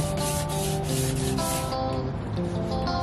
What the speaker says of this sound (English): I'm using a tack cloth now to try to get up every bit of dust that I can.